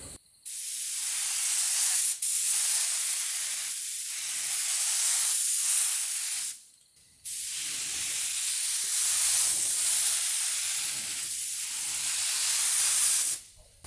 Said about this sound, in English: I'll spray in these panels to start my stencil work